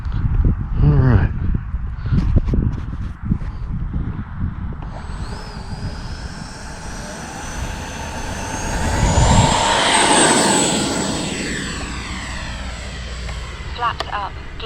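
An RC L-39 Black Diamond model jet flies overhead, its thin engine whine swelling to a loud pass near the middle and then easing into a steady, more distant drone. Voices talk over it near the start.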